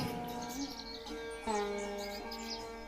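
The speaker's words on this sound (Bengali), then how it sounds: "পাখিরা ডাকছে," Birds chirp and tweet softly in short scattered calls, faint and somewhat distant, with no voices present.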